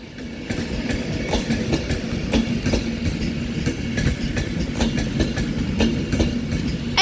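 Northern Class 195 diesel train arriving at Manchester Piccadilly, a steady engine rumble with rhythmic wheel clicks over rail joints, fairly near and constant.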